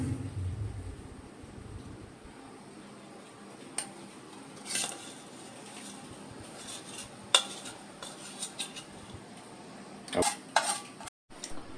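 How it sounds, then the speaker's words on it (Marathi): Jaggery syrup is gently folded into an ice cream mixture with a utensil, giving soft, irregular scrapes and clinks against the bowl that run close by under low background noise. "हा पाक आपण याच्यात घातल्यानंतर हे आपल्याला हलक्या हाताने मिक्स करायचं आहे"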